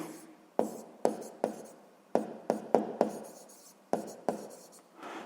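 Chalk or pen strokes tapping and scraping as a math solution is written out by hand for a sixth-grade exercise, a dozen crisp, uneven knocks with short scratchy tails, alone and fairly quiet.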